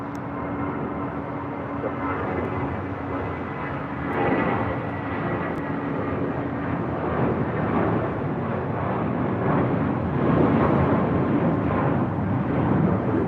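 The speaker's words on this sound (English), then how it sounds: "Brooklyn Nets special livery on this A320 next departure." An Airbus A320 in Brooklyn Nets special livery departs LAX, its engines a steady broadband roar at moderate distance that holds throughout and swells slightly toward the end.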